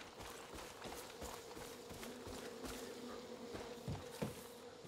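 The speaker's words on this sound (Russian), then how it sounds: "Берегись, там пчелы!" Bees buzz faintly in the video game Far Cry New Dawn, a low droning hum under soft rhythmic footsteps and scattered thumps, quiet and continuous.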